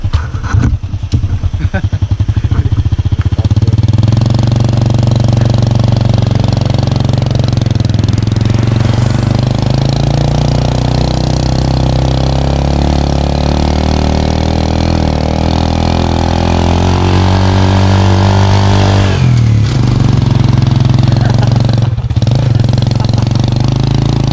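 A Toyota Supra's engine pulls steadily uphill, a loud, continuous drone whose pitch rises gradually as the car climbs, dipping briefly near the end with no talk over it.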